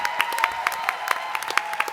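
An audience at a student ambassadors' sports pitch event applauds, a short burst of moderately dense clapping with distinct individual claps, fairly close.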